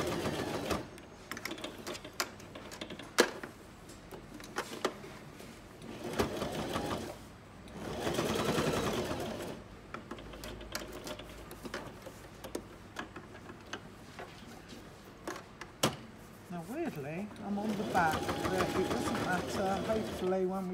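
Sewing machine stitching reusable sanitary wear fabric, following the edge round, running in bursts of steady rapid ticking with pauses between, close and moderately loud, with someone talking over and between the stitching.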